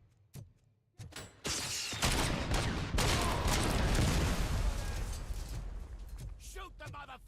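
Loud, sustained gunfire from a first-person shooter set in RoboCop: Rogue City, a dense continuous fusillade after a couple of short bursts, with a voice shouting over it.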